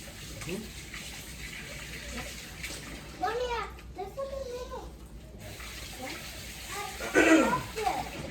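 Water runs from a kitchen tap while hands are washed and rinsed, a steady close splashing with brief bursts of spray, and a voice speaks in the background now and then.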